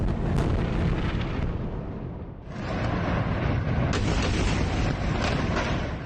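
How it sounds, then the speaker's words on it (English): Airstrike explosions in Gaza make heavy, rumbling booms that roll into one another, loud and continuous, with a brief lull midway before another deep blast and sustained rumbling, heard without any voices. "Overnight, Gaza has been rocked by explosions."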